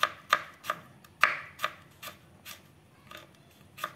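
Garlic being chopped on a board, about ten sharp, close knife strikes in an uneven but steady rhythm, with quiet gaps between them and no talking.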